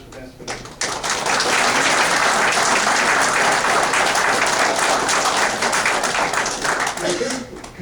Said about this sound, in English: I think we just need to give everyone a fine round of applause